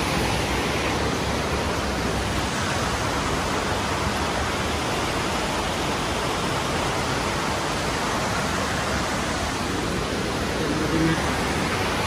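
A river near Mugling bazaar in Nepal rushes in a dense, continuous broadband roar, loud and unbroken, with no voices standing out.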